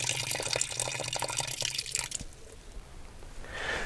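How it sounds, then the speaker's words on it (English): Water from an opened valve on a ranch overflow line pours and splashes steadily into a tank, loud and continuous for two seconds, then drops to a softer trickle and drip before swelling again. "if I turn this valve, then once again, the overflow will go into here"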